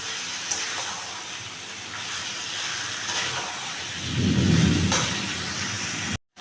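Chicken meat with fennel fries in a pan over a high flame, giving a steady loud hiss and sizzle with a swell of bubbling toward the end before an abrupt cut.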